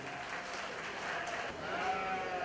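Crowd applause at a 4-H and FFA market lamb show at a county fair, faint and steady and swelling slightly toward the end, with sheep sounds possible in the background.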